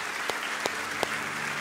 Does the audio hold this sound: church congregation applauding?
yes